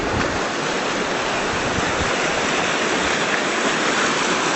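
Creek water flowing in two streams past willows, a loud, continuous broadband rush without breaks, close and steady.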